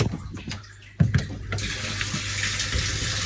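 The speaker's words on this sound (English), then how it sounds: "it's not taking any air in and going glug glug glug" Water glugs out of a tank that is not drawing in air, a gushing, gurgling flow that starts abruptly and keeps pouring steadily, close and fairly loud.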